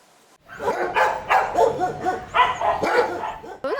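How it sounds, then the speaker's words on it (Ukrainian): A rescued dog barks repeatedly in quick, close, loud yips and barks, with a short whine near the end. "Собака потроху оговтується від пережитого і звикає знову бути серед людей."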